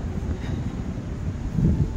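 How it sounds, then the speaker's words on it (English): Strong wind blowing during a snow storm, a steady low rushing roar with buffeting gusts against the microphone, swelling louder near the end. "that wind is blowing"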